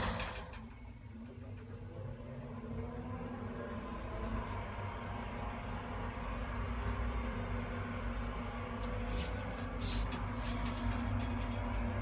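A Federal winding-drum traction residential elevator runs in a showroom with a steady low mechanical hum and rumble, a faint whine rising over it, alone and without talk.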